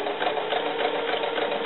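A sewing machine stitches elastic onto doll fabric, a steady close-up motor hum with rapid needle chatter, continuous and even throughout.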